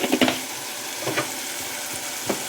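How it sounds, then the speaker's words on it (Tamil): Tomatoes sauté in a pan for kuzhambu with a steady, moderate sizzle broken by a few sharp stirring scrapes and taps, and no one speaks. "இப்போ நல்லா வதங்கட்டும். தக்காளி நல்லா பேஸ்ட் மாதிரி வதங்கட்டும்."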